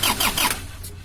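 The diesel engine of an Isuzu Panther cranks on its starter during a tune-up, a short burst of rapid, rhythmic churning pulses that fades quickly into quiet.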